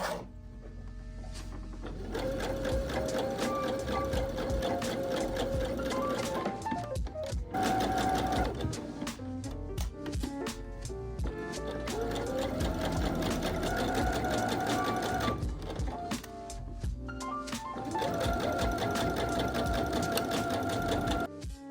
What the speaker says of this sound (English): Now it's time to take the shoulder and side seams to the machine.